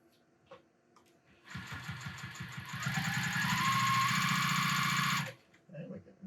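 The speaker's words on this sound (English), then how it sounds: "Let me sew inside out so you can see the stitches." A JUKI TL-2010Q sewing machine stitching through fabric, running up from a rapid mechanical patter into a fast, steady whirr for a few seconds before stopping, heard up close with quiet clicks around it.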